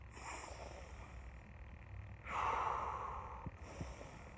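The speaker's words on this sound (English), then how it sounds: "take a deep breath" Deep breathing demonstration: a long, audible inhale, a pause, then a louder, breathy exhale through the mouth, followed by another intake of air, close and clear with no speech.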